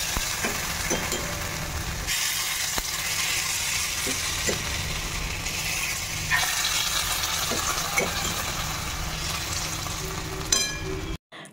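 A spoon stirs a pot of milk puli, Bengali rice dumplings simmering in milk, on a home kitchen stove, with continuous scraping and bubbling over a steady cooking hiss and a few soft knocks, ending abruptly.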